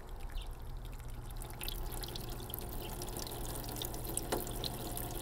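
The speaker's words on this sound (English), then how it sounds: "So right away, the container, the clear container on my left here, all the water is virtually out." Water drains and drips out of plant pots, a soft continuous trickle with scattered small drips, fairly faint and with no talk.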